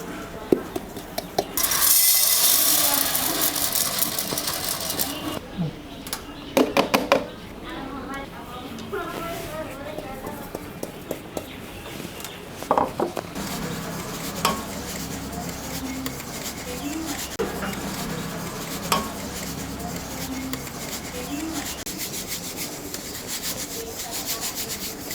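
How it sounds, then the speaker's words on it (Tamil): Ground urad dal flour being sifted through a sieve, with soft rubbing and scraping strokes that come in bursts, some louder near the start, with talk over part of it. "அரைச்ச உளுந்து மாவை நம்ம இந்த மாதிரி ஜல்லடையில் ஜலிச்சு எடுத்துக்கலாம்."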